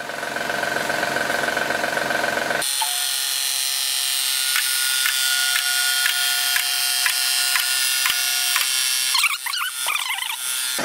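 A 2010 Honda Odyssey engine runs with a rattle heard from underneath the vehicle, a loud continuous mechanical drone with a steady repeating tick and a brief metallic clatter near the end.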